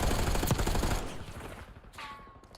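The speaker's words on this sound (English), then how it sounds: "Rohan's going to have to try and duck, dive and weave and stay out with the gunfire here" Rapid gunfire in a competitive esports shooter match, a dense burst of loud shots that thins out midway, followed by fainter background game noise.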